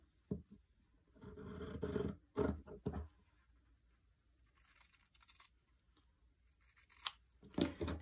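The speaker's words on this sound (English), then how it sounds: "I'm just going to take my scissors, and I'm going to cut along this line." Scissors snipping through fabric in a few quiet bursts of crisp cutting, separated by pauses and soft handling noises.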